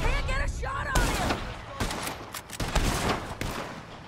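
Gunfire in the video game Red Dead Redemption 2, a run of sharp shots in irregular bursts over steady game ambience, with a voice heard briefly near the start.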